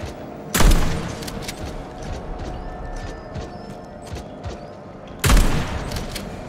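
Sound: shotgun firing in the video game Atomic Heart

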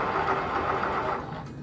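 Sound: sewing machine sewing fabric

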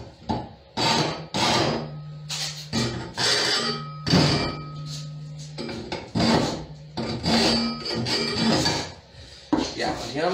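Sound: filing metal fittings with a hand file

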